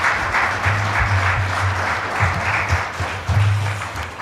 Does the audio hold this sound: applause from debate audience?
yes